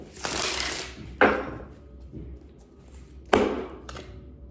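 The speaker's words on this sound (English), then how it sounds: "It's a stiff deck, so it will take a second to break in, but the shuffle is beautiful." Shuffling a stiff new tarot deck: three bursts of riffled cards, each a crisp rapid flutter that fades out, separated by quieter pauses, close and fairly loud.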